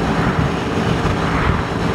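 A two-stroke MZ ETZ motorcycle engine drones loudly and close while climbing uphill, rough and labored, holding a steady buzzing strain throughout.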